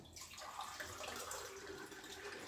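Water poured into a juicer jar while preparing ash gourd juice: a steady, continuous splashing rush that lasts throughout, moderately quiet and heard alone without talk.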